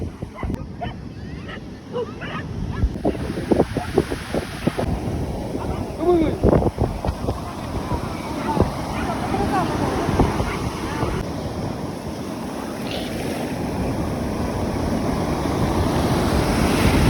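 Sea waves roll in at Arambol Beach, Goa, a continuous broad roar of surf mixed with gusty wind buffeting the microphone, steady and fairly loud throughout.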